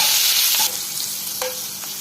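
Green chilies hit hot butter and coconut oil in a pan with a loud, bright sizzle that settles into a steady fry, with a couple of soft scrapes from stirring.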